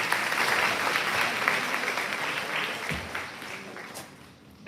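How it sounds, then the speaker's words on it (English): Audience applause after a dance performance at a Ranga Pravesham, steady close clapping from a crowd that gradually fades toward the end. "Please give her another round of applause."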